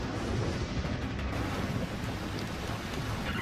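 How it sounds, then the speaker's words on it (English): Rain and thunder during a wilderness survival shelter stay, heard as a dense, continuous wash of rain noise with wind buffeting the microphone, loud and close throughout. "It's thundering out like crazy, just starting to rain"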